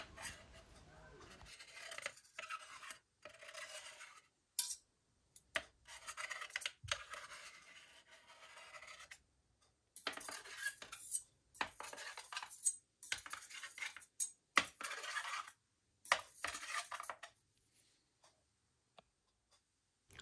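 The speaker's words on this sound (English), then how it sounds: "Using a scriber, I scribe around the bottom of the bore onto the copper sheet to make a line to cut" Sharp metal scriber scratching around a cylinder bore onto copper sheet for a motorcycle head gasket, a series of short dry scraping strokes separated by pauses, close and fairly quiet.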